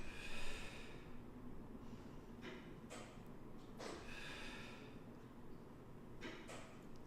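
Slow, steady breaths drawn in and pushed out during a Pilates reformer exercise, several soft airy exhales spaced a couple of seconds apart, close and fairly quiet with no talking.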